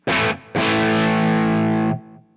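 A distorted electric guitar through a Gizmo Audio SB treble boost, placed after the distortion, rings out with a bright, treble-heavy tone: a short chord, then a longer sustained one fading out.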